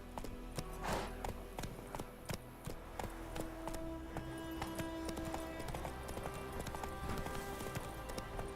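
Roach, a horse in The Witcher 3: Wild Hunt, gallops with rapid, steady hoofbeats, fairly quiet against a background of game music.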